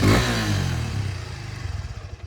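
A Suzuki V-Strom 250 adventure motorcycle's exhaust, opening with a loud rev that dies away into a steady, throbbing idle with an even pulsing beat, heard close and alone.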